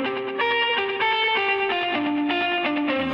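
Sustained guitar chords ring out in a mix treated with a Softube TSAR-1R room reverb set to a small-to-medium room, giving the bright, slightly distorted strumming a short roomy tail as the chords change.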